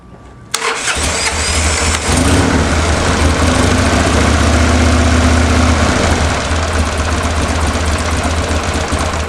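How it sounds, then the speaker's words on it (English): A Buell M2 Cyclone motorcycle engine fires up abruptly after a quiet moment, then settles into a loud, steady, deep idle with a throbbing rumble, close by. "And it sounds like a Harley."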